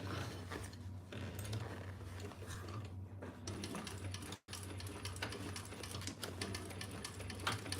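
A sewing machine re-stitching a loosened seam runs in a steady rapid mechanical whir with ticking needle strokes, briefly pausing once, heard close and without talk.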